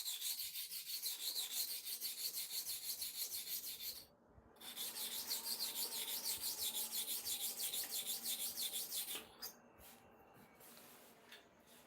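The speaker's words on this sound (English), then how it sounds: "Now I want to go 20 times here, 20 times here to finish the sharpening." A blade is sharpened by rubbing it on a sharpening surface, with steady back-and-forth rasping strokes, a brief pause partway through, and softer strokes toward the end.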